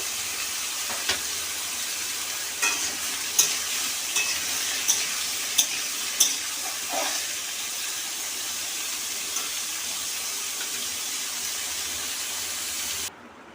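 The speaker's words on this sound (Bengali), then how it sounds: "এঁচোড় গুঁড়োকে কড়াইয়ে দিয়ে দিই। এঁচোড়গুলোকে হালকা করে ভেজে নেব।" Raw jackfruit frying in a wok for a Bengali chorchori, a steady sizzling hiss with occasional stirring scrapes and clinks, close and continuous, no talk.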